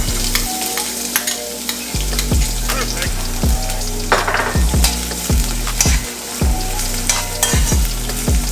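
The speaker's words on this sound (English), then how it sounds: "I add with onion. Get that going." Onion frying in a pot for a Jamaican beef kidney stew, a loud continuous sizzle punctuated by regular scraping stirs every second or so, heard close with no talking.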